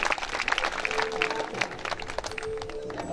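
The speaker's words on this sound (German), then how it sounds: "Applaus für Ludewig und das Ringstechen." Crowd applause ringing out at a knights' ring-tilting contest outdoors, a dense patter of many hands clapping steadily throughout, with a voice faintly audible.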